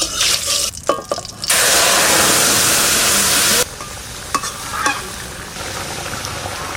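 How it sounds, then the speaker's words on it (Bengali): Cumin seeds hit hot oil for a Bengali tempering and set off a loud, dense sizzle that surges suddenly, holds for a couple of seconds, then settles to a softer crackle with light stirring clinks. "ফোড়নে দেবো জিরে"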